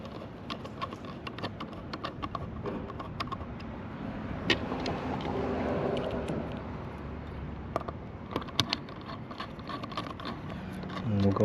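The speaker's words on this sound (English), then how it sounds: "And we'll go ahead and tighten everything down." Fasteners being tightened on Tesla windshield electronics, a run of small irregular clicks and ratcheting taps at close range over a low background hum, with a person talking.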